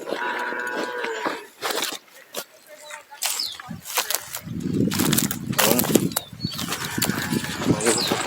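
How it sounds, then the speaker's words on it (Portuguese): A cow lowing outdoors on a farm during corn planting in the rain, with several drawn-out moos rising and falling amid scattered noises and nearby movement. "A vaca tá berrando ali."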